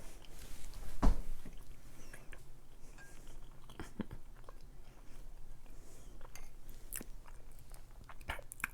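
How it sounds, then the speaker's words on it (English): Someone bites into keto chocolate chip cake and chews it close to the mic. One soft crunch comes early, then quiet, irregular mouth noises with a few faint clicks follow. "I just have to stop taking these ginormous bites or I'll be all done too quick."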